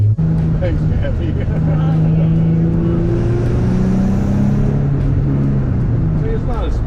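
A Nissan 300ZX drives along a mountain road, its engine droning loudly and shifting pitch as it accelerates and eases off, with voices talking over it.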